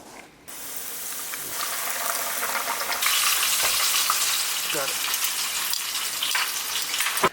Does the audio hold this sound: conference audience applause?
no